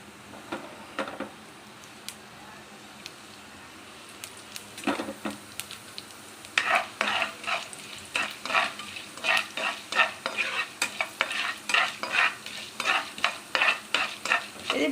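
Urad dal and chana dal fry in oil under a soft hiss, then steady rhythmic stirring starts up about halfway through, with quick scraping strokes against the pan that stay close and clear.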